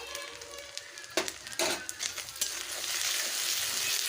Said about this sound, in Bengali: ভালোভাবে কষে নেব মশলাগুলোকে